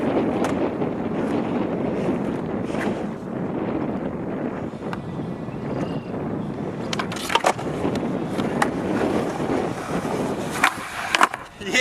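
A skateboard boardslide fakie trick outdoors, with a rolling, grinding rumble and a few sharp clacks of the board toward the end, all under heavy wind buffeting on the microphone.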